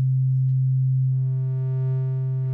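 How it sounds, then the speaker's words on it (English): A steady, loud synthesizer tone from a Novation Peak, pure and hollow at first as a sine wave, then gaining soft upper overtones as it shifts toward a triangle wave. "So you can hear there that I've now gone from sine wave to triangle."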